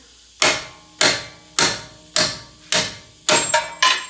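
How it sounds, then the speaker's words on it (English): Six sharp, heavy metallic hammer blows strike the strut bolts of a Buick Enclave at an even pace, each ringing briefly; the last two come quicker, one after another. "spin it this way so I can get a good hammer blow"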